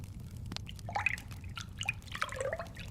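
Water drips and trickles over wet clay on a potter's wheel during a pottery class, several small scattered plinks close by over a low steady hum, with no talking.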